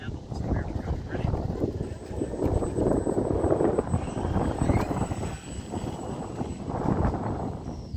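Rabid Models Tigercat 40 RC model plane flying outdoors in a breeze, a steady distant motor whine under heavy gusty wind noise on the microphone, with someone talking throughout.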